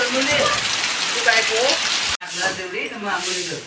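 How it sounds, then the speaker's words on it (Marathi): Heavy unseasonal rain pouring outside on farmland, a dense steady hiss and patter throughout, with voices talking over it. "बाहेर खूप पाऊस पडतोय"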